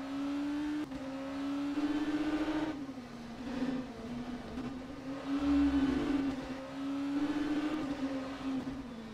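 An LMP2 race car engine in the rFactor 2 racing game holds a steady high drone that rises and dips slightly as the car drives on, with a constant whir underneath.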